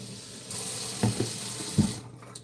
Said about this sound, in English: So I'm just gonna wash my hands again.